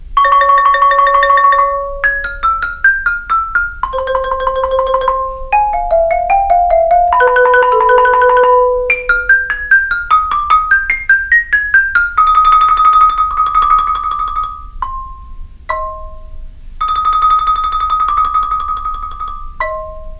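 A bright xylophone plays a flowing melodic passage with quick runs, trills and sustained ringing notes, loud and close, with no voices.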